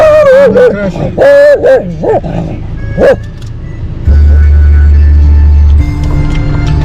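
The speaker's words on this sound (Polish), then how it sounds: "Chyba nasz pies nie lubi wyścigów kolarskich." A dog barks and whimpers loudly and close by, whining in rising yelps, while roadside spectators wait for a bicycle race in Romania. A steady engine-like hum enters partway through.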